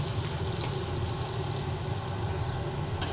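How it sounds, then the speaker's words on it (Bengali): Potato pieces seasoned with turmeric and salt fry in hot oil in a pan, giving a steady, even sizzle that carries on without pause throughout. "আলু লাল লাল করে ভেজে নিচ্ছি।"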